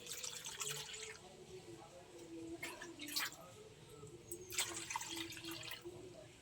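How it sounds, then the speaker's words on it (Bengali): Water poured over strained raw green mango pulp for a mango drink, a faint trickle and a few soft splashes in a quiet kitchen. "যে আমটা আমি ছেঁকে রেখেছিলাম, তার পরিমাণ মতো জল দেব।"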